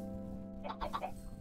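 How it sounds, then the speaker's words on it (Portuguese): Chickens in the video game Minecraft cluck in a quick burst of three or four short notes midway through, over a low steady hum, moderately loud with no speech. "as galinhas estão até aqui na minha"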